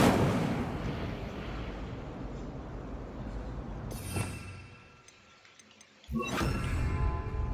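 An Incendio fire spell cast in Hogwarts Legacy: a loud roaring burst that fades, a sharp crack, a near-silent lull, then a second forceful eruption.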